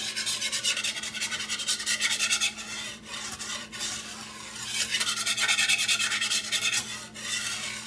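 A whisk scrapes and stirs a gravy mixture in a pan in rapid, continuous rubbing strokes, close and steady with a brief pause midway, with no talk.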